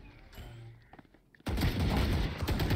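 Valorant gunfire: quiet game sounds at first, then a sudden loud, dense burst of rapid shots that fills the remaining second and a half.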